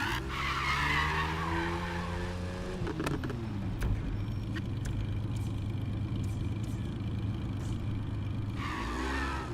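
Car tyres skidding and squealing under braking in Need for Speed Heat, a long tonal screech over engine drone that drops in pitch, then rough road noise before a brief revving return.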